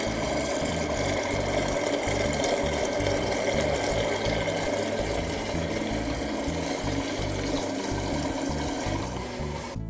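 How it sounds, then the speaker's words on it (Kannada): An electric curd-churning machine whipping yogurt into butter at home: a loud, steady motor drone close by with continuous sloshing liquid, and no one speaking. "ಇದು ಮೊಸರು ಕಡಿಯುವ ಮೆಷಿನ್."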